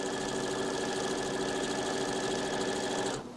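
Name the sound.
sewing machine stitching skirt fabric along the edge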